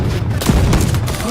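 Weapon fire in the arena shooter Quake Champions, a dense burst of loud shots and booms over a busy, continuous game mix.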